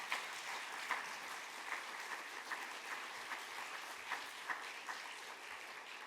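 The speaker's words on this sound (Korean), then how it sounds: "우리 함께 일어나시면 박수로 환영하도록 하겠습니다." A congregation at a Saturday dawn church service claps steadily to welcome visiting guests, a dense, sustained patter of many hands with occasional sharper peaks, filling the room without any talk.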